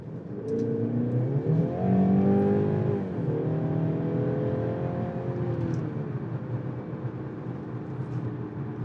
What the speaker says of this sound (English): Okay, got a little muffler sound to it.